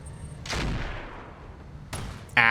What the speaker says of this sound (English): That must have been a pretty large cannon, like an AC-10 or something.